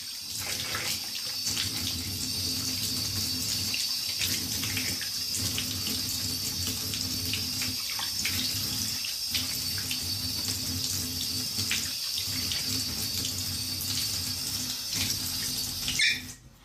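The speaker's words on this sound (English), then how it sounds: "I'm gonna splash some water on it," Tap water runs steadily and loudly for over fifteen seconds, splashing against a wall surface close by, with faint intermittent rubbing and squeaks as it is wiped, ending in a brief clatter.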